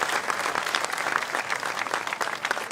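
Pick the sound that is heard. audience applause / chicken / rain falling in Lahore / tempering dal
audience applause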